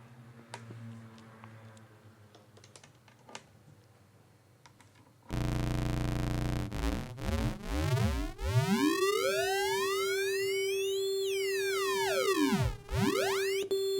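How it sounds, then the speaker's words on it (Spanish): Faint background ticks give way to a loud synth oscillator tone through a Befaco Sampling Modulator module that sweeps and warps, with aliased pitches gliding up and down in dense, metallic whistling patterns. "se va generando aliasing"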